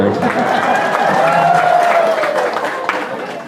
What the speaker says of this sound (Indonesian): Tepuk tangan gue deh